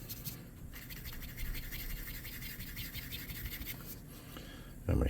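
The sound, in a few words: paintbrush dabbing paint onto a jug-shaped urn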